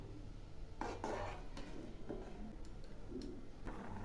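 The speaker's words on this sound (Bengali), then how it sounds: "এবার আমি এগুলি নেড়ে দিচ্ছি।" Spoon stirring thick carrot halwa cooked in milk in a pot, faint scraping and soft clinks of utensil against metal in irregular strokes, quiet and close.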